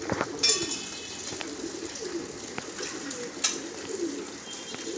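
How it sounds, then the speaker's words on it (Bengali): Madrasi pigeons in a loft, including a female, coo softly and repeatedly with a few sharper chirps and wing or cage noises around them. "এটা মাদি পায়রা"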